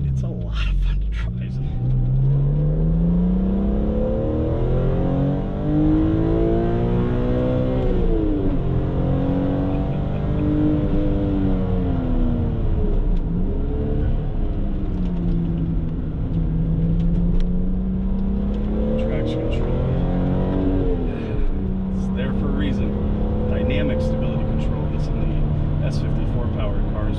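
A BMW Z3 M Coupe, an E36-based chassis fitted with an S54 engine, drives steadily with engine tone rising and falling through revs, loud and continuous for the whole stretch, with a voice talking over it.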